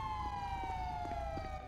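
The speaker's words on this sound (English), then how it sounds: "Let me get a siren check, yo." A police car siren in GTA roleplay wails as a steady falling tone, fairly faint and continuous, with low engine rumble beneath and no talking.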